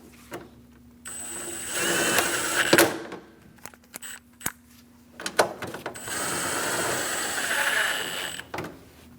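A ratchet works 10mm bolts on the intake of a Chevrolet Express 2500 4.8L, quick clicking bursts close up with pauses between runs.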